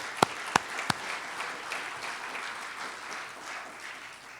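An audience applauds at a Hall of Fame induction ceremony for engineering and science, opening with a few sharp claps before settling into steady, moderately distant clapping that carries through.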